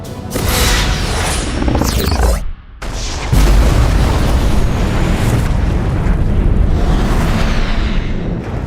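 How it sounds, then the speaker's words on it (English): Film sound effect of torpedo explosions: deep, heavy booms roll out one after another, loud and rumbling, with a short gap of near silence between blasts and a sustained roaring aftermath. "Massive secondary explosions."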